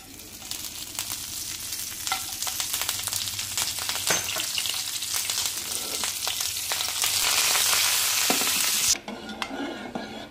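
Tempering spices sizzle steadily in hot oil for lentil dal while a spoon scrapes and stirs, swelling into a louder, hissing burst near the end before settling again.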